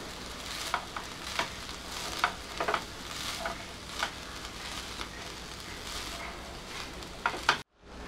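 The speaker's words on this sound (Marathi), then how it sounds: "आणि हे सगळं आता आपण व्यवस्थित मिक्स करून घेऊया।" A spoon stirs mango rice ingredients with sugar in a hot pan, giving a steady sizzle with regular scraping strokes close up, no talking.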